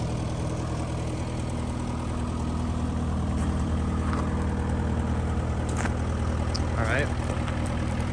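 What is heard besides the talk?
Case skid steer engine idling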